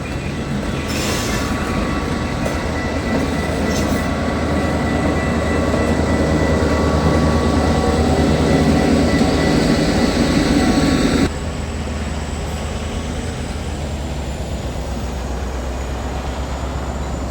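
Norfolk Southern freight train cars rolling past in Birmingham, a steady loud rumble with squealing wheels and rail clatter that drops abruptly to a quieter continuous roar partway through.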